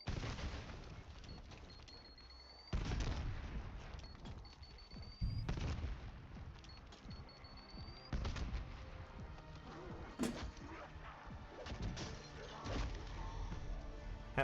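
Semtex grenade blasts and bursts of gunfire in a shooter video game, loud repeated booms and crackling shots in uneven clusters with a faint electronic tone between them.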